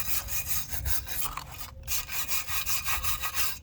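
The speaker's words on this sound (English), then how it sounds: "Even after soaking in purple cleaner for a couple days, you still got to scrub them" Control arm parts from a 1974 Pontiac Trans Am are scrubbed by hand after soaking in purple cleaner, with rapid rhythmic back-and-forth scraping strokes, close and fairly loud, and a brief pause midway.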